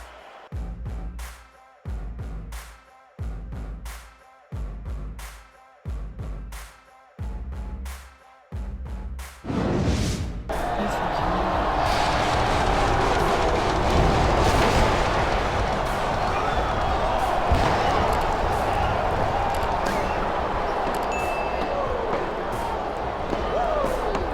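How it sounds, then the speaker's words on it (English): Wrestling arena crowd in SmackDown vs Raw 2006 swells into a loud, sustained roar after a series of rhythmic heavy thuds, continuing as a dense wash of cheering to the end. "Listen to the crowd, JR."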